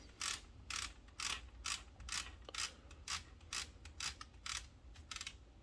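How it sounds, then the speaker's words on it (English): A Lego Technic ATV (set 42139) toy winch being wound by turning a plastic gear, giving a steady series of about a dozen quick ratcheting clicks, evenly spaced, close and fairly quiet with no talk. "you just wind it up by turning this gear here. Yeah, so you got a working winch there."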